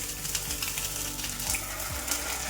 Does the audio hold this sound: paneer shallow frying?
yes